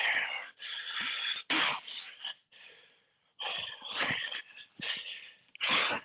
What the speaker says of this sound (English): I did have a serious bad cough then